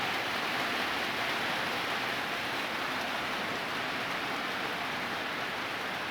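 Steady, even hiss of rain falling, a constant wash of noise without pauses or voices, moderately faint.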